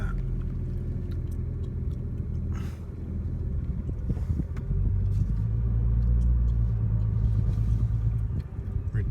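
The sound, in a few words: Nissan Nismo N-Attack GT-R car driving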